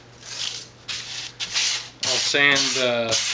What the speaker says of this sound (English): First thing I do is I'll sand